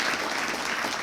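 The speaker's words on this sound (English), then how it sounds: "Let's give John a round of applause." Steady round of applause from a banquet audience at a hall of fame dinner, dense and continuous clapping filling the room without pause.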